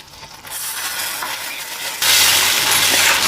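A paste of poppy seed, almond, peanut and green chili hitting hot oil in a pan, a moderate sizzle that jumps abruptly into a loud, sustained fry partway through.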